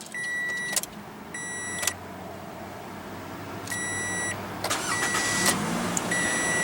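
A 2016 Toyota RAV4 with push-button ignition and a 2.5-liter four-cylinder engine, heard through repeated dashboard chime beeps over a steady low idle hum that swells slightly toward the end.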